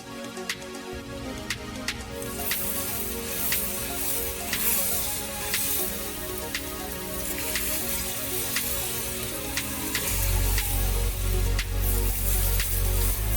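Sweet potato cheese pancakes frying in a pan, a steady soft sizzle with occasional ticks and taps that grows louder and fuller toward the end, with no talk.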